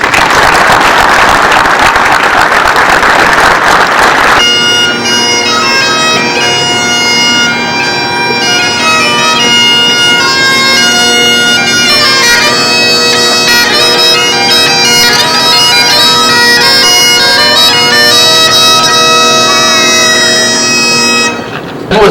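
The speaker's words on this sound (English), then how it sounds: "Let's give them a warm round of applause." A crowd claps for a returning Army military police company at a homecoming ceremony at the State Capitol in Sacramento. The loud, dense burst lasts a few seconds, then steady band music with sustained horn tones takes over.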